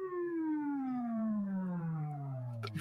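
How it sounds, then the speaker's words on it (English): A wailing siren sweeps steadily downward in pitch, loud and sustained, with a brief burst of noise near the end. "There's sirens."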